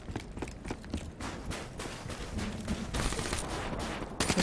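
Gunfire in the Infection mode of a Halo-style shooter, a fairly faint, continuous stream of rapid shots and impacts with no talking over it.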